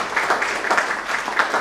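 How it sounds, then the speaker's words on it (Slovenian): An audience at an entrepreneurship day event applauds warmly, a soft, steady wash of clapping heard briefly from some distance. "pa tudi tebe topel aplavz."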